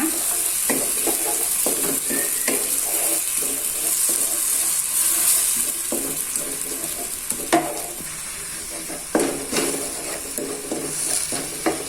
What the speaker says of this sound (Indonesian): Untuk serainya saya masukkan sama daun jeruknya